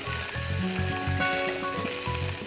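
Vegetables fry in a pan with a continuous sizzle and crackle close up, with faint stirring and tonal background hum underneath, no voices.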